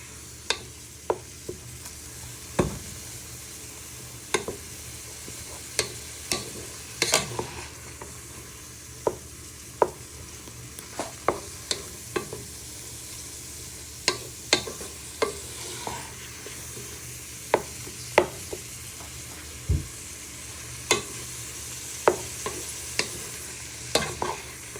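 Mince frying in a pan for taco soup, with a steady soft sizzle under repeated sharp scrapes and knocks of a utensil stirring it, irregular clacks every second or so, close and fairly quiet.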